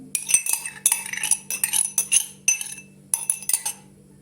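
A cup of yogurt is spooned into a mixing bowl for a Turkish yogurt soup, with a quick run of bright metal spoon clinks and taps against the bowl in irregular bursts, close and alone.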